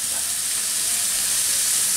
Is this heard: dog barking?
no